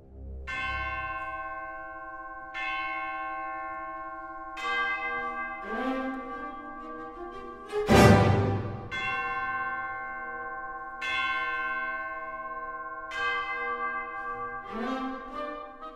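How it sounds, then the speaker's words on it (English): Deep tubular bells struck in unison pairs, each stroke ringing out with a long shimmering decay; several strikes over a sustained orchestral tone, with one louder clang midway, in the finale of Berlioz's Symphonie Fantastique. "they go the route of unison pairs of tubular bells"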